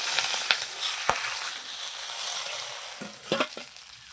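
Fish head, a katla (rohu-type carp) head, frying in hot oil in a wok, a steady sizzle with a few sharp pops and spatters of utensil contact near the start and end.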